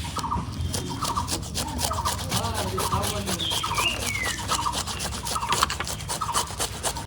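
A knife or scraper rasping scales off a large pomfret fish in a kitchen, in repeated rhythmic scraping strokes, close and steady, with faint background voices.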